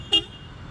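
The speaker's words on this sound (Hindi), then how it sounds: "वो हॉर्न बहुत लाउड है इसका" A DC Avanti sports car sounds its horn in one short, sharp, loud honk, close by, then a quiet hum of the surroundings.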